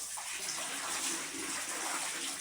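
Pumped tap water pours steadily into a basin on laundry day, a soft continuous hiss and splash, faint and uninterrupted.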